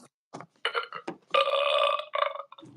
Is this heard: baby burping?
yes